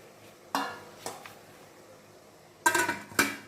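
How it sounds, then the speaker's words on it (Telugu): A metal lid lands on a cooking pot while steamed vapour papad is being made, with four sharp clanks close by, two spaced early and two closer together at the end, over a quiet kitchen. "ఇప్పుడు మూత పెట్టేద్దాం"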